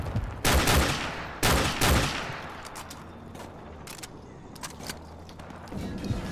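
Gunfire in Call of Duty 4, two loud close bursts of rapid shots early on followed by scattered, fainter distant shots and cracks with quieter gaps between.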